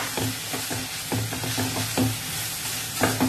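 A paneer mixture for rasmalai modak is stirred in a pan with ghee over a low flame: a soft, steady sizzle under repeated rhythmic scrapes and taps of the spoon against the pan, close by.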